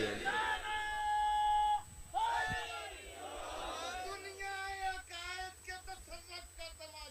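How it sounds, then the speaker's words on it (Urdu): A crowd at a Shia majlis gathering for 4 Rabi ul Awal shouts the Nara-e-Haidari religious slogan, loud massed voices in call-and-response bursts that rise, break off and resume in ragged waves. "مل کے نعرے حیدری"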